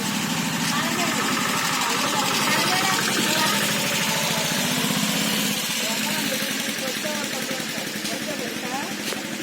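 A motorbike engine idles with a steady low putter close by while people talk over it throughout.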